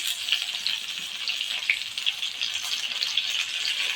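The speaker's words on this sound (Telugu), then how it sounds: "ఉల్లిపాయలు, టమాటా ఇవన్నీ వేసి వేయించుకుందామండి" Onions and tomatoes fry in a pan for a Telugu okra chutney, giving a steady, dense sizzle that holds close and loud the whole time. Faint stirring and rattling crackles come through now and then, with no voices.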